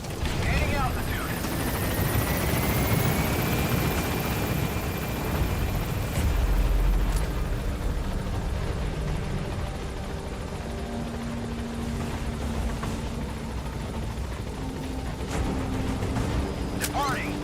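A helicopter takes off in Metal Gear Solid V, its loud, continuous rotor and engine roar rising in pitch as it climbs, with a rumbling burst partway through and game voices over the top.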